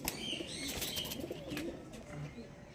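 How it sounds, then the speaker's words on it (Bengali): A pair of black pigeons, a female and a male, coo in a loose, continuous run close by, with soft chirps mixed in and a faint background hum. "ব্ল্যাক খুবই কম পাওয়া যায় এরকম পায়রা এটা মাদা পায়রা এটা নর পায়রা"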